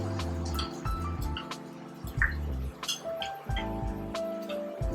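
Cornstarch and water being stirred together in a small bowl for noodle gravy, with soft clinks and light liquid sloshing, close and quiet.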